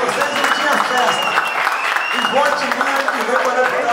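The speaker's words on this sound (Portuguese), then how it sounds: "Dá uma palma, uma salva de palmas pra vocês" A crowd applauds at a regional football awards ceremony in Epitaciolândia, Acre, steady dense clapping throughout with voices audible beneath it.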